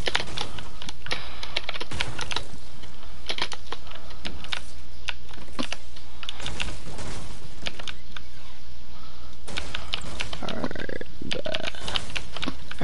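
Rapid, close clicking of a computer keyboard being typed on during PC gaming, with dense, continuous keystrokes and no talking.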